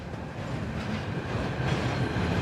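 A train rolls past in the Warhammer 40,000: Rogue Trader video game, giving a steady rumbling rattle of wheels at a constant moderate level with no voices.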